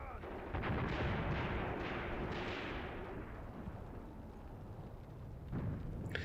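Heavy artillery and field howitzer fire rumbles from a Graviteam Tactics battlefield, booming barrages rolling together into dense, continuous low thunder with a fresh loud blast near the end.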